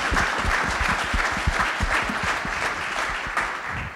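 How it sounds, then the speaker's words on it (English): An audience at a real estate industry forum gives a round of applause, steady clapping from a moderate crowd with individual claps audible, easing slightly toward the end. "Let's get a round of applause for you for coming."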